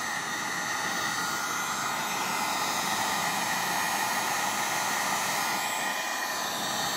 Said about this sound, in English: I got my heat gun and I got my little plug here, and it doesn't take very long